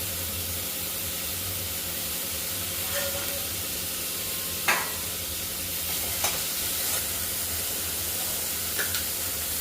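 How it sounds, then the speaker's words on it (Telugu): Onions frying in a small amount of oil, a soft, steady sizzle with occasional sharp stirring clicks, close by and fairly quiet, without talk. "ఇప్పుడు మళ్ళీ స్టవ్ ఆన్ చేసి ఫ్రైడ్ ఆనియన్స్ అనేది వేయించుకోవాలండి."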